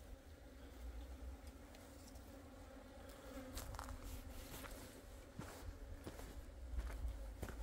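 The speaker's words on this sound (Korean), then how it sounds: "동양종 꿀벌이 여기 와서 지속적으로 날이 이렇게 좋은 때 여기 와서 먹이 활동을 하려고 하는 거죠" Asian honeybees forage at a beehive on a fine day, around a hive box whose colony was wiped out by pesticide. They give a steady, faint, low droning buzz that continues throughout, with no voices.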